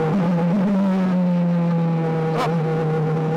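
Formula Regional F3 single-seater race car held on throttle, its engine a loud, steady high-pitched drone with a rising harmonic whine, heard close from onboard, with a brief sharp burst of noise midway as the car skips over the track.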